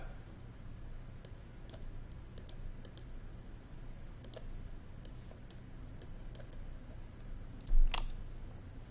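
Computer mouse clicks sound while working in QuickBooks and LaceUp DSD software, a scattered series of sharp, close clicks spread unevenly across several seconds, with one louder click near the end, over a quiet room hum and no talk.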